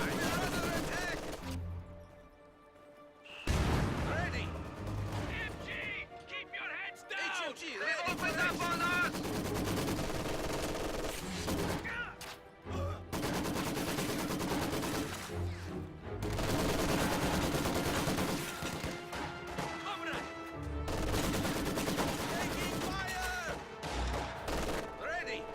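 An MG42 machine gun fires on a Maxim position in a multiplayer strategy video game, with repeated bursts of automatic gunfire and scattered explosions running throughout, mixed with busy battle noise and a commentator talking over it.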